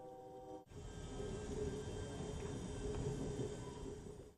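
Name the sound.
train moving away from Houston train station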